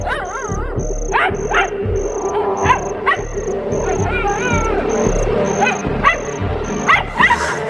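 A small Pomeranian dog named Pomi barks in repeated sharp bursts through the night, a steady high electronic beeping and animal-like cries layered over it.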